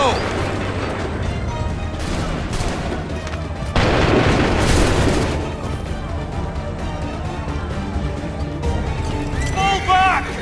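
Musket volleys crack out in Assassin's Creed III during the Battle of Bunker Hill, heavy bursts of gunfire and booms over battle noise, with shouting voices throughout.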